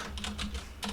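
Keys clatter on a computer keyboard in quick bursts of close taps, with a short pause before a final cluster, over a low steady hum.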